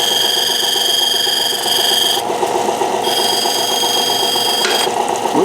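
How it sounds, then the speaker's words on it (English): An 800 grit lapidary grinding wheel polishing an opal gives a steady, loud whirring hum with a constant mechanical drone, broken briefly by shifts in pitch as the stone presses against the wheel. "let's start with a little bit on this 800 wheel"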